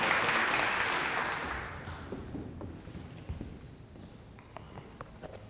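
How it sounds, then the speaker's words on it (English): An audience applauds for speaker Clay Matthews at a Historical Society of Carroll County talk. The clapping is dense and steady at first, then thins into scattered claps and fades out over several seconds. "Can we have a round of applause for Clay?"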